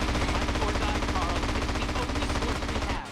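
Dense, continuous automatic gunfire from enemies in GTA San Andreas, a loud unbroken rattle of rapid shots that cuts off abruptly at the end.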